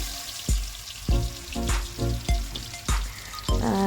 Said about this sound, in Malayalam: അതിലേക്ക് നമുക്ക് നമ്മുടെ ചിക്കൻ ചേർത്ത് കൊടുക്കാം.